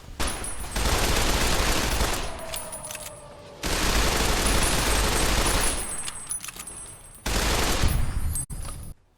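Heavy sustained gunfire erupts in Fallout: New Vegas in three loud, dense bursts of rapid automatic fire, each lasting a few seconds, with brief quieter gaps between them.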